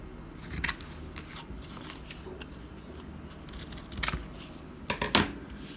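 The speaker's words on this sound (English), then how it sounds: "I'm going to cut the corners." Scissors trimming the corners of a printed cardstock tag: a few quiet snips spread apart, with one early cut and a cluster of crisp cuts near the end over a low background hiss.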